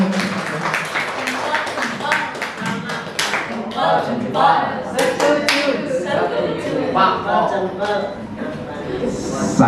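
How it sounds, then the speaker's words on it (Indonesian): An audience at a school dissemination event on positive culture applauds, a steady wash of clapping with individual sharp claps standing out and some voices mixed in. "Tepuk tangan untuk kita semua"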